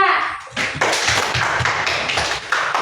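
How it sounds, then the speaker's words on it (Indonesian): Classroom applause for a student group at the end of a presentation, a dense run of many hands clapping close by for nearly three seconds, with the class voices mixed in. "Sekarang kita memberikan tepuk tangan buat kelompok 2."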